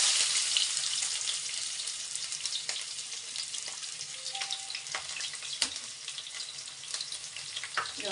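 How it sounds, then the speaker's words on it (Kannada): Onions sizzling steadily in hot oil with mustard seeds in a home kitchen pan, a continuous bright hiss with occasional pops and crackles, close and fairly quiet, with no talking. "ಇದೊಂದು ಸ್ವಲ್ಪ ಫ್ರೈ ಆಗಬೇಕು."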